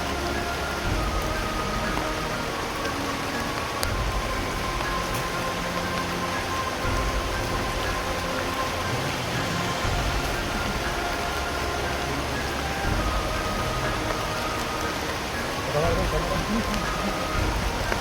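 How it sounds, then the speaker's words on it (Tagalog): Heavy rain pours down in a steady, dense hiss of drops pattering on surfaces, with a faint engine rumble underneath and occasional voices. "Tayo ulan na, umulan na."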